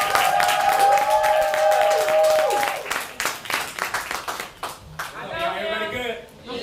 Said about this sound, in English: So y'all clap it up for Truth.